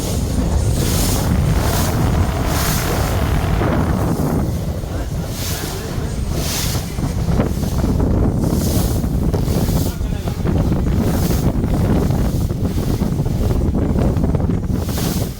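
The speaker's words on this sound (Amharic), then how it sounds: "ከታች እንዴት እንደሚሮጨው ውሃው" Water rushing below at Hawassa, a loud continuous wash of surging water mixed with heavy wind buffeting the microphone, steady throughout.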